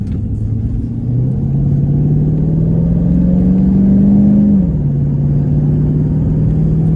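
A Chevrolet Caprice with P0208 and P0300 misfire fault codes runs close by with a steady engine drone. It revs up slowly, holds briefly and drops back to a steady idle, with no talking.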